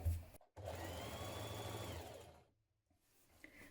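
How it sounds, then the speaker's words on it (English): A sewing machine stitching around the outer edge of a shirt collar, running in one steady, close whirring burst of about two seconds before stopping, then a faint click. "Pin your under collar to your top collar and stitch around the outer edge."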